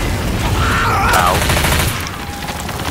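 Gunfire in the zombie shooter Left 4 Dead 2: a dense, rattling burst of shots mixed with chaotic game noise, loud and close, easing off toward the end.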